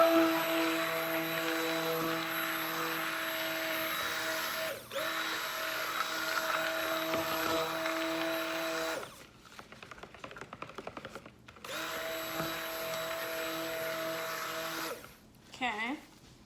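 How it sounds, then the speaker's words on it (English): A blender runs with a steady high motor whine, stops partway while someone talks briefly, then starts up again for a few more seconds. "Get this blender, start mixing."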